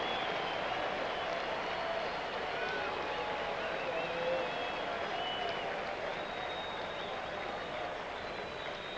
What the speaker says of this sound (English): And the crowd now made aware of the accomplishment by Roy Steele.